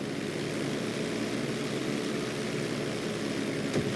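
A steady propeller airplane engine drones during a GTA V flight school emergency landing practice on a bridge, a constant even hum with no talk, and a brief whoosh near the end.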